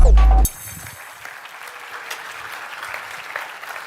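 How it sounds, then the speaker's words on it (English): A loud burst of sound cuts off abruptly, then a conference audience at a React Native developer event keeps up moderate, steady applause with scattered cheers. "Give him a big round of applause."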